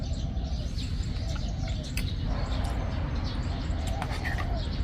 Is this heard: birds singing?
yes